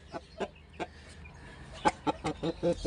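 An ash-colored rooster clucks close by in a series of short separate pulses, sparse at first and then coming faster and louder toward the end.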